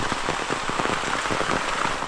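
Heavy downpour in the Konkan region pounding steadily on surfaces, a dense hiss with crackling spatters of drops, loud and continuous with no voices.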